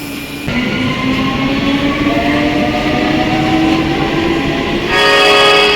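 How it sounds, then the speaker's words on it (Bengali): A local train rumbles loudly with screeching wheels as it slows to stop at a Kolkata station, then a horn-like tone sounds near the end. "লোকাল ট্রেন বাজে দেখেছেন আটটা তেরো থামলো ট্রেনটা"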